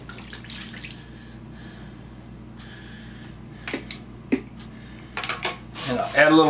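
Cleaning liquid poured onto saw blades to soak them, a soft splashing trickle that builds toward the end, with faint drips and a clink between.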